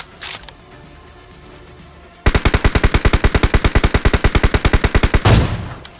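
Automatic gunfire in the battle royale video game PUBG: a single sustained burst of about two dozen rapid, evenly spaced shots, loud and close, after a quiet stretch and ending in a final crack.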